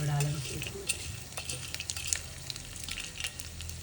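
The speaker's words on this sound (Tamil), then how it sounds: "இந்த அளவுக்கு இதெல்லாம் வறுத்து விடுங்க" Lentils roasting in hot oil for a traditional paruppu thuvaiyal sizzle loudly while a spoon stirs and scrapes the pan in quick, irregular strokes, with no one speaking.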